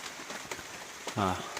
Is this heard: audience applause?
no